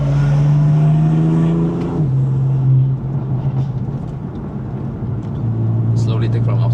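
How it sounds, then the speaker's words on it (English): A BMW M4 straight-six with around 600 horsepower drones loudly from inside the car on a mountain highland road, its steady engine note stepping down in pitch, while faint voices sit low in the mix. "I'll keep the conversation to a minimal so that you can enjoy the sound of the straight six"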